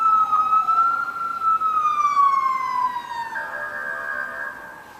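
Police car siren wailing in sweeping rising and falling tones during a Maine snowstorm, fairly close and loud over steady road noise, then fading as the cruiser pushes through an intersection.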